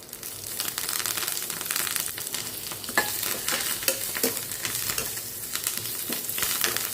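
Cloves, cinnamon, cashews, chili pieces and curry leaves frying in a pan for coconut rice, a continuous close sizzle with scattered pops and scraping stirs throughout.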